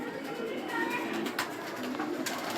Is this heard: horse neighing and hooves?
no